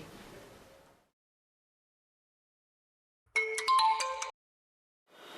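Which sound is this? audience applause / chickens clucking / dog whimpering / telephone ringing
telephone ringing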